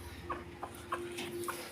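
White Knight hens give a few short, soft clucks at irregular intervals in a farm coop, with a faint steady background hum and no speech.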